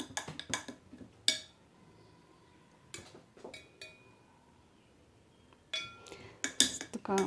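Scattered glass clinks and taps from stirring a thick DNA extraction mixture in lab glassware, arriving in short clusters with quiet stretches between them, close and fairly soft.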